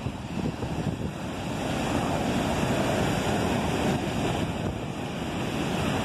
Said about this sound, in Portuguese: esse mar aqui é imenso,